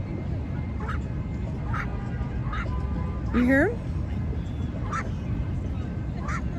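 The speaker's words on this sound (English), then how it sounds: "Oh my gosh, ducks." Ducks quack in short bursts close by over a steady outdoor background, with one louder honking call in the middle and a person speaking briefly.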